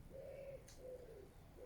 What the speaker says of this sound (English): Just the doves and wood pigeons, seagulls, and the occasional aircraft going over.